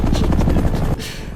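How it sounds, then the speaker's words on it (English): Helicopter rotor noise thrumming steadily and loudly, with dense low chopping that cuts off sharply near the end, leaving a thinner rumble. "They're all like just watching the helicopters."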